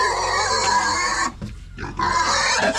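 A farm pig gives loud, close grunts and squeals, a harsh rasping run that breaks off briefly midway and then resumes, with no speech.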